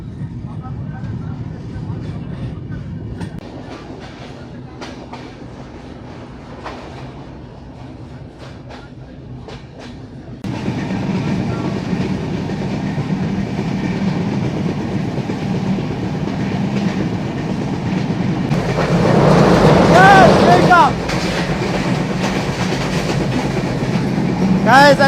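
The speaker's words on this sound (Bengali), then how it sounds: "আমাদের ট্রেন থ্রোপাস যাচ্ছে।" Panchagarh Express passenger train running through stations without stopping, heard from on board: rolling rumble and clickety-clack that swells louder partway through, with a brief high squeal later and voices talking over the noise.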